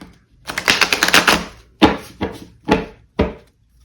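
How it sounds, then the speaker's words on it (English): Rapid riffling flutter of tarot cards being shuffled, followed by several short separate snaps and taps, close and crisp. "I'm going to do one more shuffle this way."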